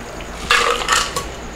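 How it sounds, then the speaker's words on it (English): An Abbey cocktail is poured from a shaker into a pre-chilled cocktail glass, a short close splash of liquid with a faint clink of glass, lasting under a second. "we're gonna pour this goodness."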